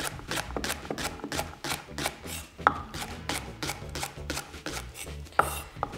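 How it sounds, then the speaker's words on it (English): A Katto kitchen knife finely slicing a leek on a cutting board, a quick rhythmic series of crisp cuts and board taps, close and clear, with no talking. "I'm gonna slice up my leek."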